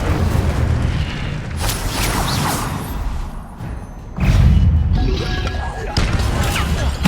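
A fire spell blasting in the Hogwarts Legacy video game, a loud booming whoosh and crackle that swells, dips briefly, then bursts again amid repeated combat effects.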